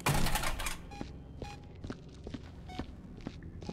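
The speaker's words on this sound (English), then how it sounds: "What's going on with this printer?" A printer in the Viscera Cleanup Detail video game runs with a dense mechanical rattle at first, then settles into sparse clacks and ticks, fairly faint, with no talking.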